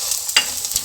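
Coriander seeds, parboiled rice, fennel seeds and black pepper dry-roast in a pan for Chettinad masala, giving a soft, steady hiss with one quick scrape of stirring, with no talking.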